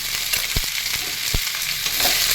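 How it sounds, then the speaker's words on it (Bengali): Eggplant and ridge gourd sautéing in a pan with ginger and green chili paste give a loud, even hiss, punctuated by two distinct knocks of a spatula against the pan. "এবার আমি ভালো করে এগুলো একটু কষিয়ে নেব।"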